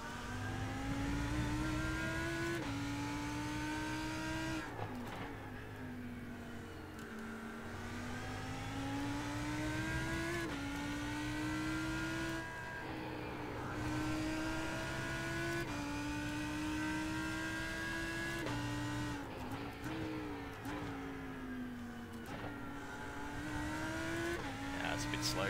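Race cars in the iRacing sim game at Road America, including an Audi, hold a continuous loud engine drone with rising and falling revs as gears shift through corners, heard throughout without pause.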